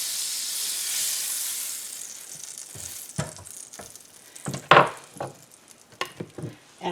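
Butter sizzles on a hot griddle set around 250 to 275 degrees, a broad steady hiss that fades, followed by scattered clinks and taps nearby.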